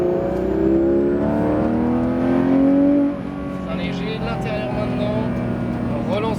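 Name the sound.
sports car accelerating on race track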